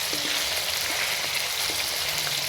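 Ginger sizzles in hot olive oil in a pan, giving a steady, close hiss with fine crackling that never lets up.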